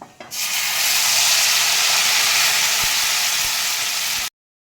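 Ground spice paste hits hot ghee and fries in a loud, constant hiss with faint crackling, close by and without talk, then cuts off abruptly into silence.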